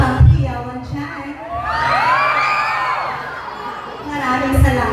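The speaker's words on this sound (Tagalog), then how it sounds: "Wala bang hiyawan dyan?" An audience at a Miss Gay pageant introduction in Lumbayao, Tampilisan, cheers, whoops and shouts loudly, with a swell of yelling voices in the middle and bursts of crowd noise at the start and end.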